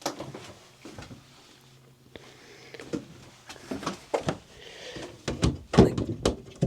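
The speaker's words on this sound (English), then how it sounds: "Again, with the louvered doors for storage." Louvered wooden storage doors in the master cabin of a 43-foot Albin double-cabin trawler opening and closing, with a series of close, uneven knocks, clatters and thumps, busiest toward the end.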